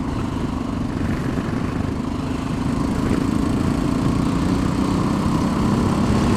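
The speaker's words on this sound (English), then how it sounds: "This is to give you a baseline for what the stock exhaust sounds like in comparison to the other two" A Honda XR650L motorcycle with its stock exhaust runs steadily and fairly loud, a constant low engine drone with a muffled tone, no voices.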